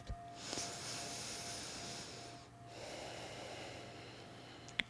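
One slow, faint inward breath is drawn during a calming bedtime yin yoga session, soft and airy against quiet room tone, with a small click at the end.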